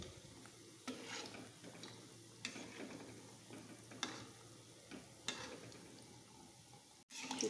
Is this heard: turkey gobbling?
no